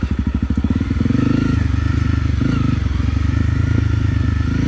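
Honda CRF 250 Rally motorcycle engine with a sticking throttle, a close, loud, steady thumping idle-to-midrange drone with rapid pulsing firing beats and some clatter, no speech.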